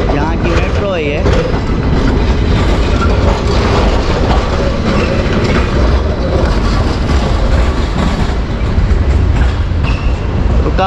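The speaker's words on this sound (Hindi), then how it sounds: "तो ये देखें यहाँ का ट्रेन सिस्टम, यहाँ की मेट्रो है ये।" A Milan metro train runs close by with a steady, loud low rumble and rolling wheel noise throughout, and someone talks over it.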